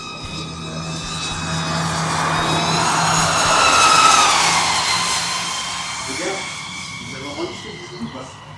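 A Ford FPV or Peugeot 508 PSE accelerating on a race track, a loud, rising engine roar that swells and peaks before fading slightly, with faint talk in the background.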